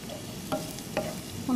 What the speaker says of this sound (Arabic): نحمر البصل مع الثوم